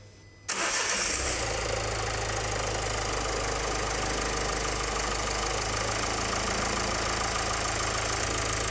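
Vehicle diesel engine with a Bosch EDC-17 CP4 injection system cranking and firing up after a brief quiet moment. It then settles into a loud, steady, close idle that continues to the end.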